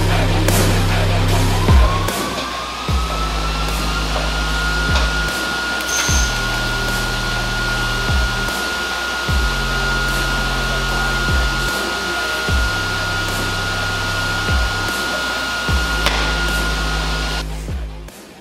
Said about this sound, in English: that noise that came from my welder was not normal